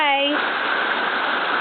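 Rain falling outdoors while a child plays in it, heard as a steady, even hiss of water that continues after a brief voice at the very start.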